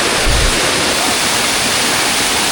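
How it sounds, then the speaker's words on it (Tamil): The Tumpak Sewu waterfall in Java, Indonesia, pours with a dense, continuous roar, loud and steady throughout with no voices. "அங்கே தண்ணி நிறைய ஊற்றிட்டு இருக்கு ரெண்டு சைடு."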